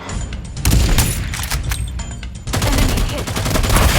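Rapid bursts of gunfire ring out in the battle royale game Farlight 84, loud shots with a brief lull before another sustained volley.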